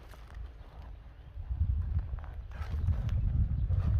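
A big, sturdy horse being led on the ground, its hooves thudding in low, irregular steps that grow louder and closer partway through, with faint background activity.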